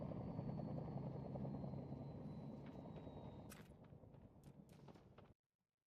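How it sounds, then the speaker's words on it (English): A helicopter in the video game Wardogs spins up with a loud, steady rotor drone and a thin whine. The drone fades over several seconds and is joined by a few sharp clicks before the sound cuts off abruptly. "start the helicopter?"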